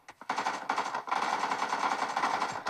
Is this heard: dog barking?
no